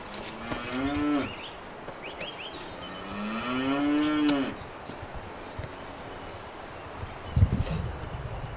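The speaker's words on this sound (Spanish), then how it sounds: "Ahí está, la vaca suelta." A cow on a livestock farm in Palacioruiz lets out two long, loud moos with a rising, drawn-out pitch, followed by quieter rustling and a brief clatter nearby, with no talk.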